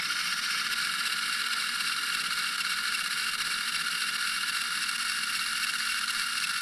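Drivetrain of an Enduro24 RC rock crawler running steadily at low throttle, a continuous faint high-pitched gear whine and mechanical whir with no pauses or voices.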